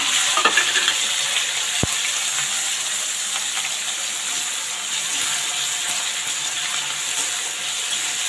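Cumin and asafoetida sizzle in hot oil, a steady, close frying hiss that runs unbroken throughout with no talking.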